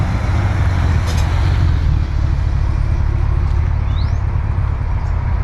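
A vehicle outside gives a loud, steady, low engine rumble from start to finish, with a brief hiss and faint squeaks over it and no one talking.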